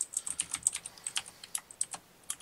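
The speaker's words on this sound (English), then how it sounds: "I hear Cody typing like a madman" Rapid computer keyboard typing, a dense run of light, quick clicks at a steady frantic pace, faint and close with no talking.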